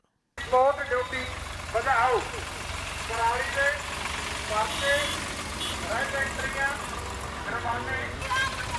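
Tractors of Punjab farmers heading toward Delhi idle with a low, steady engine rumble that runs throughout beneath continuous talking.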